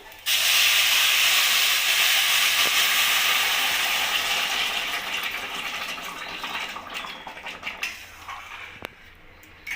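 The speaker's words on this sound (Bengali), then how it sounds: "এবার আমি জলটা দিয়ে দেব, আস্তে আস্তে করে আমি দিয়ে দেবো।" Water poured slowly into a hot pot of fried rice for a festive basanti pulao sets off a loud, steamy hiss that starts abruptly and fades gradually over about ten seconds, with no talking.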